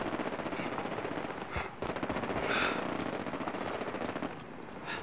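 Rapid automatic gunfire from a robot enemy in Fallout 76 rattles continuously over dense game noise, loud and sustained with a brief dip in the middle.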